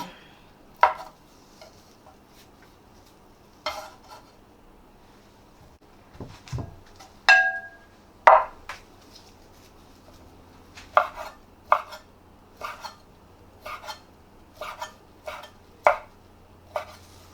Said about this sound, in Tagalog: hihiwain na po natin ng maliliit na size ang ating hotdogs at saka sausages